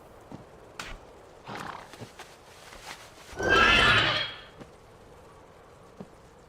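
In World of Warcraft, a dragon-horse mount gives a loud neighing whinny that rises and fades in the middle, with scattered hoof-like clops and thuds before and after.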